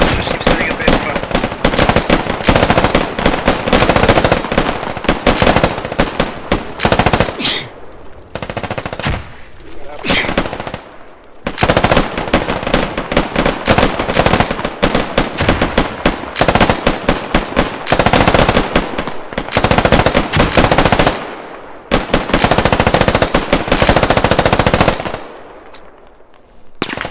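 Sustained squad machine-gun fire lays down a base of fire in a military video game, with loud continuous bursts broken by a few short pauses.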